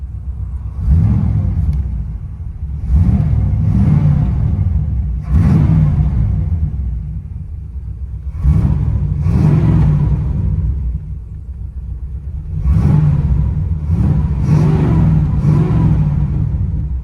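A 1978 Chevy Camaro's 5.7L V8 with long-tube headers and straight pipes revs repeatedly in strong, throaty bursts with brief idling lulls between, heard from inside the car, loud and close.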